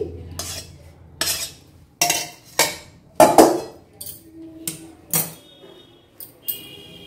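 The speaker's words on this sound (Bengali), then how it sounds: "মশলাটা পুরো আমি কাচিয়ে দিয়ে দিচ্ছি এর মধ্যে। প্রেসার কুকারেই থাকবে" Metal utensil scraping spice paste out of a wok into a pressure cooker while cooking mutton, heard as a string of sharp clinks and scrapes in irregular bursts, close and fairly loud, with no talking.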